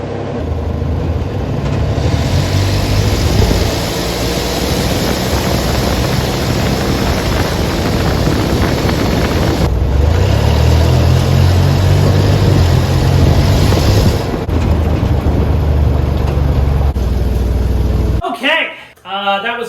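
A customized 1954 Chevy hot rod driving, heard from inside as a loud, steady engine drone with road and wind rumble, rising and easing with the throttle, under someone talking, before a brief drop near the end.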